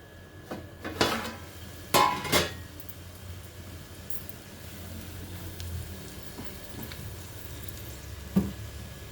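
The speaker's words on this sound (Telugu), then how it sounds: "మూత పెట్టేసుకుందాం" Metal pot lid set onto a cooking pot of vankaya tomato masala curry, a few sharp clinks and clatters with a brief rattle, then quiet kitchen background and one last light knock.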